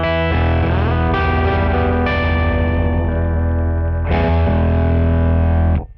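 KHDK Annihilator octaver pedal with its synth sound blended in at about 30 to 40 percent, producing a loud, thick, buzzy synthetic guitar tone in sustained phrases that cut off at the end.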